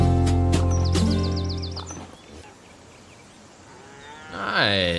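Cattle mooing in the video game Autobahn Police Simulator 3: several loud, drawn-out moos with a higher chirping call between them, and a final moo rising near the end.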